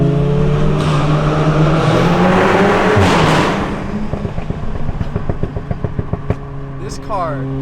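A Mk7.5 Volkswagen Golf R engine roars and revs up loudly while driving, then settles into a rougher, pulsing idle-like rumble as the car slows.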